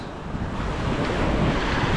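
Waves washing in at the seaside, a continuous loud surge mixed with heavy wind buffeting the microphone, with no speech.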